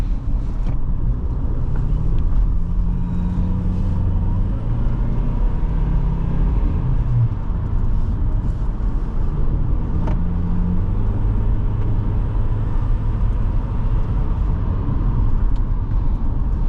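A 2005 Honda CR-V EX on the road, heard from inside: a constant low engine and road rumble with wind noise, steady and loud throughout, no voices.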